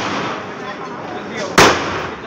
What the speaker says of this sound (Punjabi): ਚਲਾ ਰਿਹਾ ਪਟਾਕੇ